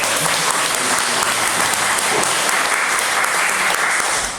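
A church congregation at a Sunday worship service claps together to welcome a new member, a steady, dense wash of applause lasting the whole moment without pause.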